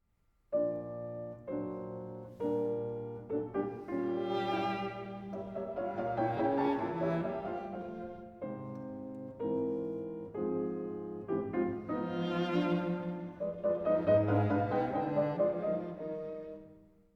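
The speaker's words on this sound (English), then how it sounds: "The second subject of Clara's piece sounds like this" A piano and strings play a lyrical second-subject theme from a piano trio sonata in phrases, swelling and easing, with sustained string lines over piano chords.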